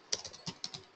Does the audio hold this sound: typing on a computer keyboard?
yes